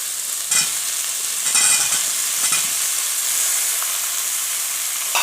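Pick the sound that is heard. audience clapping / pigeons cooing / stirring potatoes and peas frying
stirring potatoes and peas frying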